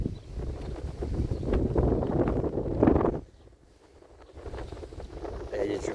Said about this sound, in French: Là, il y a du vent, je sais pas si vous m'entendez.